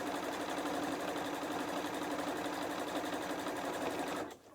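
A domestic sewing machine stitching quilting fabric hexagon pieces runs in a steady, close, continuous whir for about four seconds, then stops abruptly near the end.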